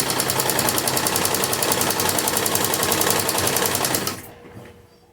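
A sewing machine runs steadily, stitching a doubled golden strip onto the edge of a kurti sleeve. It sounds as a fast, continuous mechanical whir with a rapid needle rhythm, then stops abruptly just after four seconds, leaving faint room noise.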